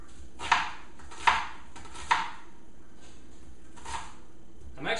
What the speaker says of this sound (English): I actually use a whole white onion, and right now I'm just going to chop it up for you